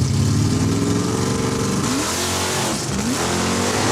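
Drag racing cars at Saskatchewan International Raceway rev loudly and accelerate hard, a dense, roaring engine sound that rises and falls in pitch as gears change, heard close and continuously with no talking.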